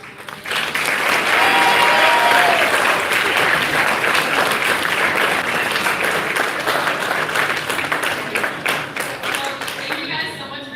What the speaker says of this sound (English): can we get one round of applause?